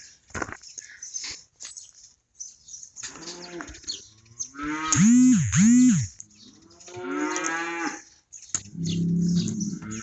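Cattle, including a bull, growling and mooing at each other on a farm: low drawn-out rumbling growls and two loud, close bellowing moos, with a quieter answering call and scattered background noise.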